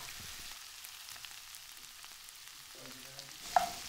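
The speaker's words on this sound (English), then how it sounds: "I'm cooking down the chorizo and the smell coming off this is delicious and it's releasing all its oil" Chorizo and potatoes fry in a pan, giving a faint, steady sizzling hiss that runs without a break through the short stretch.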